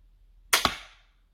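A Cobra R9 pistol crossbow looses a bolt tipped with a standard field point into a bicycle helmet, a sharp snap followed at once by a second crack of impact that rings out briefly, with no talk over it.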